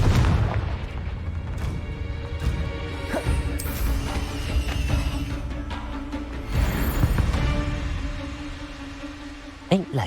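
Confringo blasting spells erupt in Hogwarts Legacy with heavy booming crashes and bright magical whooshes over game music, loud and repeated, and a voice speaks in the clip.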